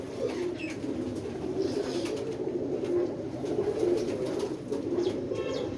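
Pigeons coo continuously in overcast, rainy weather, a steady low burbling that swells and repeats close by, with no voices over it.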